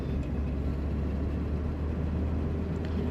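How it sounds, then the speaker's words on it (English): A 1951 Chevrolet Styleline Special sedan engine idles smoothly with a constant low rumble, close by and even throughout, with no other sounds rising above it. "a very smooth running engine"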